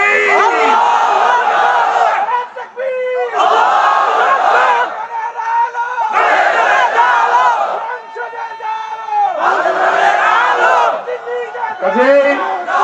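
A large crowd at a Bangladeshi Islamic sermon gathering shouts a takbir response in loud, repeated collective bursts, each surge rising and falling with brief gaps between.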